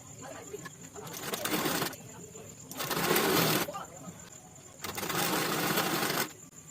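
A sewing machine stitches pompom lace onto a kaftan kurti in three loud bursts of rapid whirring, with quieter pauses in between and a voice speaking during the gaps.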